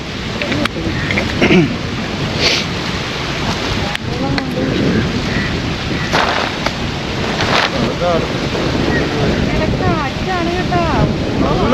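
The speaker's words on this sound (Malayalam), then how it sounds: "കാറ്റുണ്ട് കേട്ടോ" Wind blowing across a small fishing boat at sea off Kerala, a rough, gusty rumble buffeting the microphone continuously, with faint voices and occasional knocks breaking through.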